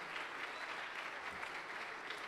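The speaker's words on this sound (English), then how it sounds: "give applause for all of the speakers" Faint, even applause from a chapel audience for student election candidates and speakers, steady clapping heard from a distance with no pauses.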